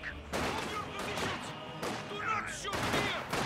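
In a strategy war game, a Maxim machine gun fires dense, rapid bursts that come in repeated waves of loud crackling gunfire, with other battle noise around it.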